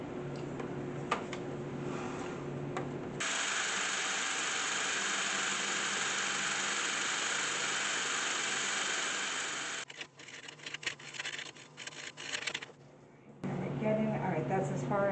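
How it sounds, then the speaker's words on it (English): A power drill bores a pilot hole into a live edge wood bowl, a steady loud whine running for about seven seconds before it stops, followed by a short stretch of lighter handling noise and then talk. "I'm gonna drill my pilot hole."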